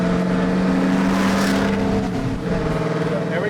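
A 632 cubic inch big block engine in a truck cruising near 70 mph shifts into fifth gear, a loud steady drone under road noise that dips briefly at the shift, with a voice over it.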